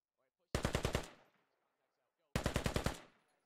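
Two loud, close bursts of automatic rifle fire in the video game Squad, each a rapid string of about six shots with a trailing echo, separated by a short silence.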